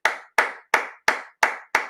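One person claps hands six times in a slow, even rhythm, each clap crisp and close with a short decaying tail, alone without talk.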